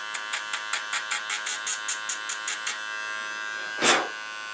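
Short, evenly spaced buzzing pulses come from a Dremel rotary tool with a cutter ball as it is bounced against a plastic model tank mantle. A longer, louder whir closes the sequence, heard up close.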